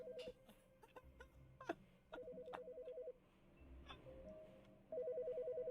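Telephone in The Stanley Parable ringing in repeated electronic bursts, roughly a second each with gaps between, over low game ambience and scattered short clicks.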